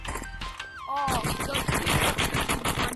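Rapid automatic AR rifle fire in the video game Animal Rivals, a dense loud burst of shots running through the whole stretch with a brief sweeping game effect near the start.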